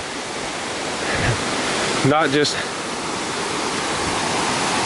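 Ramsey Cascades waterfall pours in a steady, dense roar of rushing water that fills the whole scene, with a brief spoken voice rising over it midway.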